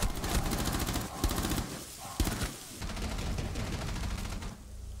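Bursts of rapid automatic fire in the Rainbow Six Siege shooter, loud and close, with a short pause and a thump before the shooting resumes in steady strings of shots.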